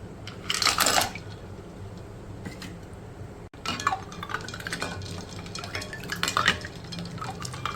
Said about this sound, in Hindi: और अब हम इसमें डालेंगे बर्फ़।